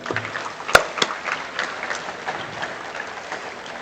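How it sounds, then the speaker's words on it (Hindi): A seated audience at a Panchgavya medical conference session gives a thin round of applause, scattered and fairly distant, with a couple of sharper knocks early on. "सबसे पहले मैं चाहता हूं कि आप लोग अपने लिए तालियां बजाइए"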